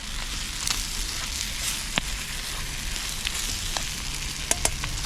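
Butter sizzles in a skillet over an outdoor campfire, making a steady close hiss of frying with a few soft clicks and taps of a utensil and no talking.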